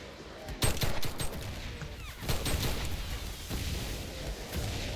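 Gunfire in the Enlisted video game, with rapid volleys and single sharp shots cracking close and loud in irregular bursts over a dense battle din, and a voice talking in between.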